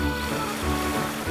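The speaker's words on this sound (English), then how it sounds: "The sound of water falling," Steady broadband wash of falling water near a mountain in the Simple Steps video game, constant and fairly loud with a low rumble beneath, no voices.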